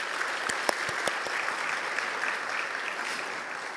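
A church congregation applauds during a Sunday worship service held for people with disabilities, a steady wash of many hands clapping at even volume with a few sharper claps near the start.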